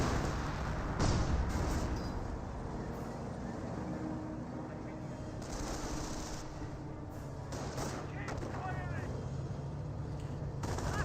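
Artillery fire in the World War II strategy game Company of Heroes: heavy booms and rumbling blasts roll through a busy battle din, with scattered thuds and crackles across the whole stretch.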